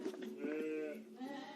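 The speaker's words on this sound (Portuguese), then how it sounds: "Esses cordeiros estão com em torno de 60 dias." Lambs about sixty days old from triplet births on an intensive lamb-production farm bleat in a drawn-out, wavering call that rises and falls, close and clear with no talk over it.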